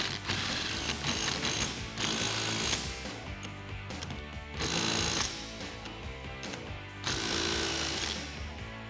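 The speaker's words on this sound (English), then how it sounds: "grab a 17mm deep socket and tighten it down." On a 2007–2018 Chevrolet Silverado front strut being fitted with a billet strut spacer, a ratchet with a 17mm deep socket tightens a nut in rapid clicking bursts, separated by short pauses and set against a busy metallic workshop clatter.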